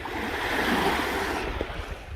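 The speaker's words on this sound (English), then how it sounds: "Feel those waves coming in. You can hear the waves as well." Waves on the Lake Michigan shore at New Buffalo, Michigan wash in as a dense, continuous rushing surf close by, with light wind buffeting the microphone.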